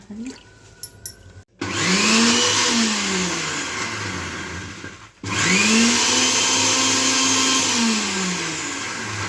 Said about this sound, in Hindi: इसी में हरी मिर्ची वगैरह पीस दें, जीरा पीस दें